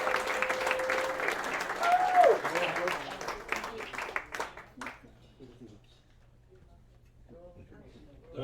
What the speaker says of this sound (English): Let him hear it, let him hear it. He's walking, you're clapping.